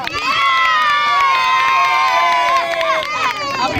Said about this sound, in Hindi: जी जोरदार तालियां